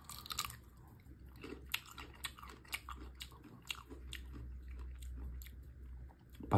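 Cherimoya fruit being bitten and chewed close up, with a steady run of soft wet crunches and mouth sounds at an irregular rhythm, quiet and with no talking.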